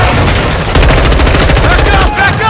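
Dense, loud gunfire in Call of Duty: Modern Warfare 2, with rapid automatic bursts and booming shots layered continuously over a chaotic battle, and shouting voices mixed in.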